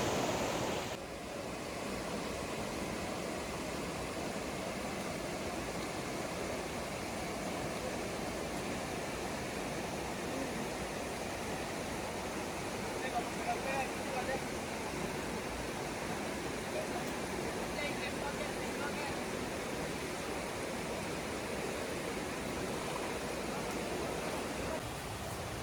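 A swift, heavy mountain river rushing on Mount Gandang Dewata, a dense continuous roar of water that holds steady the whole time with no break.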